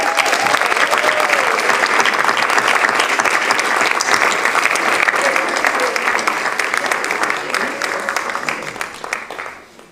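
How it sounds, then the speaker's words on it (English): Sustained loud applause from an audience at a school board meeting in an auditorium, honouring retirees, dense clapping for about ten seconds before tapering off at the end. "Let's give them another round of applause."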